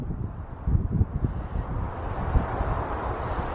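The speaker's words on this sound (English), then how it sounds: "Now it's getting very windy again" Low, rumbling gusts buffet the microphone in uneven bursts outdoors among greenhouses, a steady roar of wind with no voices.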